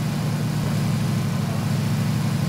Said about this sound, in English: I think I hear a motorcycle.